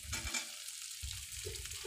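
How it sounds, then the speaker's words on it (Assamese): Potatoes fry in a pan with browned onions, a steady close sizzle with faint stirring over a short stretch. "আলুখিনি এনেদৰে অলপ ভাজি ল'ম।"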